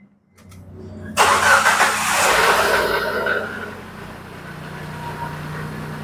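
An older Proton Persona car with a grounding fault cranks briefly after a few clicks, then fires up with a loud burst and settles into a steady idle, close by.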